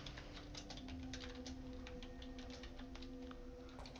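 Quick, light key clicks from typing on a computer keyboard, irregular and fairly faint over a steady background hum.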